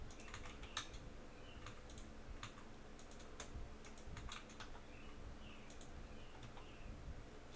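Typing on a computer keyboard while filling in a software form, a quiet, close run of irregular key clicks and taps in bursts throughout, with no talking.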